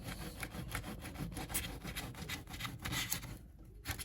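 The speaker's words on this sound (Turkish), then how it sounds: "Kalın zımparayla." Quiet, rapid scratchy rubbing strokes of coarse sandpaper against a BMW E36 M3 diecast model, rhythmic back-and-forth, continuous and close.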